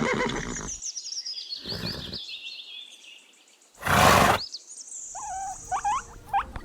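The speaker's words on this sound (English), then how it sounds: "pony" A pony neighs in a short burst of whinnying, loud and close, standing alone between other animal calls in a quiet farm-animal sound sequence.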